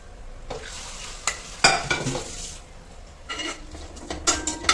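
Paneer frying lightly in a spiced pan for a paneer mutter korma, a gentle sizzle broken by scraping stirs and a few clinks of utensil on the pan, heard close up with no talking.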